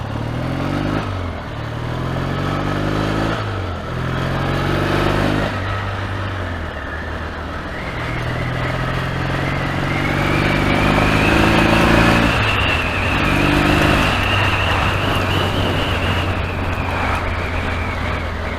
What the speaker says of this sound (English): the one with the GR 650 Suzuki Tempter